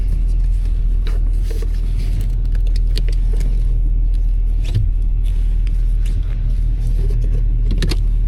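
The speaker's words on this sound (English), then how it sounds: "All kinds of noise coming from the road here." Steady low rumble of road noise heard from inside a moving vehicle, a constant droning roar with faint rattles and clicks on top.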